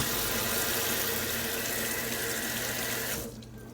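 A kitchen faucet runs steadily into a sink while a celery stem is rinsed under the stream, a continuous close splashing rush that cuts off near the end.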